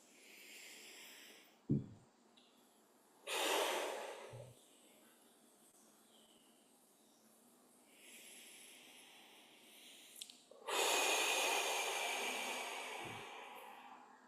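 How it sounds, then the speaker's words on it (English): Slow, deep breaths during a guided meditation come in long drawn-out inhales and exhales with pauses between them, close and breathy, with a few soft clicks and no talking. "Take a couple deep breaths in."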